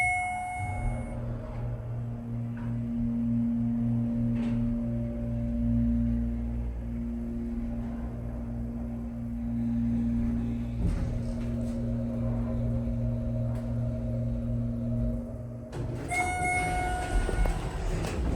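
Schindler 300A hydraulic elevator motor at a JCPenney in Willowbrook Mall, Wayne, NJ, running with a steady low hum and tonal whine, faint music in the background, ending with a clunk.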